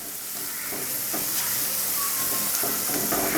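White pepper and salt fry in a pan with a steady, close sizzling hiss and faint stirring scrapes, with no talk over it.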